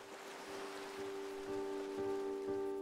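Rain falls steadily on a beach where waves break on the sand, a continuous soft hiss of rain and surf with faint tonal hum throughout, no voices.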